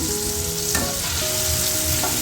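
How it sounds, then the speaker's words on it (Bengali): Food frying in a pan crackles with a loud, continuous sizzle up close, steady from start to finish with no speech. "এদিকে আমি কিছুটা ভাজা বসিয়েও দিয়েছি"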